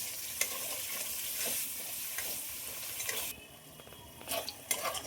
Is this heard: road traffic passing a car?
no